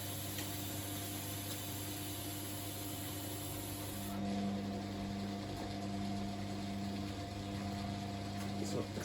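A vintage 2001 Hotpoint WM54 washing machine pumps out water with a steady low mechanical hum and hiss, a higher whine joining partway through, continuous and fairly quiet.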